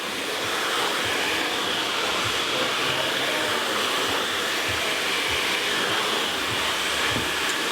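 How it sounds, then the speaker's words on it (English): A hair dryer blows continuously and steadily while drying a short men's haircut, with an even, close airflow roar that holds without pause. "You want to blow dry it on the blend"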